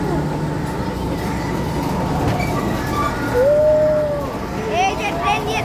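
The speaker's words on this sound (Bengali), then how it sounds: "এই যে ট্রেন দিয়ে দেখুন গুহার ভিতরে আমরা ঢুকে গিয়েছি" An amusement park ride train at Fantasy Kingdom rumbles into a cave, with steady wheel noise, a brief rising wheel squeal, and a person talking over it.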